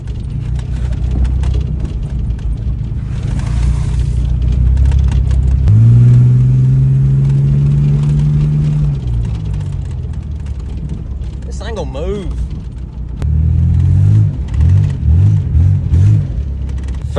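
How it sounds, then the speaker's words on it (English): A Ford Explorer hunting car off-road, its engine rumbling close by and rising into a sustained rev, then chugging in short pulses, with people talking over it. "first test of the hunting car."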